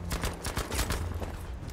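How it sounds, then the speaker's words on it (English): Rapid bursts of automatic gunfire in the video game Battlefield 5, repeated cracks in quick succession at moderate distance, fairly faint, with no talk over them. "did anyone hear all that gunfire?"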